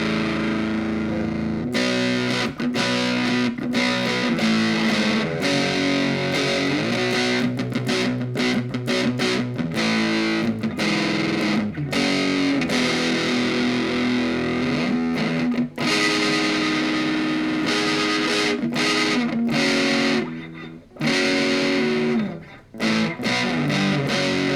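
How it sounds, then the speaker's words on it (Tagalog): Electric guitar played through a budget TG amplifier on its drive setting, giving a loud, continuous crunchy distorted tone of strummed chords and riffs with brief pauses near the end. "So, ito yung tunog ng kanyang drive tone."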